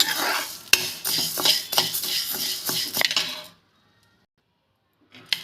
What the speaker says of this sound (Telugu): ఓన్లీ మిరపకాయలకి వాటికి ఆయిల్ వేసుకోవాలి.